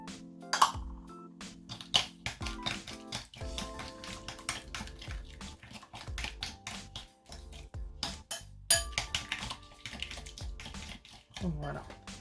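Raw beef for a Thai-style stir-fry with vegetables is stirred in a bowl with salt, pepper, fish sauce and soy sauce. Quick irregular clinks and scrapes of utensil against dish repeat steadily throughout, close and fairly loud.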